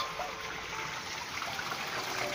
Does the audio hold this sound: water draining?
yes